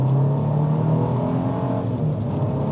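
A 2025 Nissan Armada SUV cruising in standard drive mode, with a steady low engine drone and road hum holding at an even, close level throughout, no talk over it.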